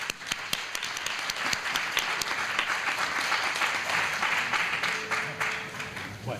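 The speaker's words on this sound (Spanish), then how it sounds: "Un fuerte aplauso." An audience bursts into sustained, dense applause for a speaker opening a talk on quantum radiofrequency and our connection with the universe, steady for several seconds before it thins toward the end.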